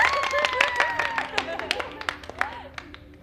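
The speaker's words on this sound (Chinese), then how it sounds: "我们大家赶紧为可风鼓掌" A group at a dinner gathering claps for a friend, a burst of scattered hand claps mixed with talking voices and laughter, fading out toward the end.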